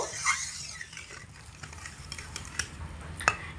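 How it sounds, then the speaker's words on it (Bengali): Lentil and pointed gourd curry being stirred gently in a pan, a soft scraping and shuffling with a faint simmering sizzle and a few light knocks. "হালকা হাতে একটু নাড়িয়ে দেব"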